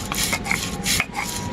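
Dried chillies, cumin and mustard seeds being ground by hand in a home kitchen, a close series of irregular scraping and knocking strokes at moderate loudness, with no talk.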